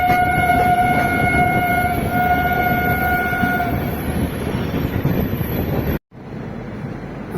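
A Visakhapatnam to Guntur double decker passenger train running through Duvvada station without stopping, heard as a loud continuous rumble with sustained horn-like tones, then a sudden brief cut near the end.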